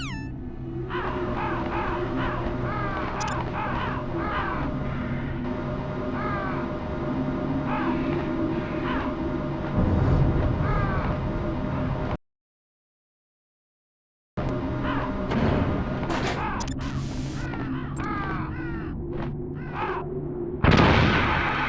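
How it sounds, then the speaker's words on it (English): Crows caw repeatedly over a steady low ambient drone in Metal Gear Solid, harsh calls scattered throughout, briefly cutting to silence before more cawing and a loud thump return. "What the hell are all these crows doing around here?"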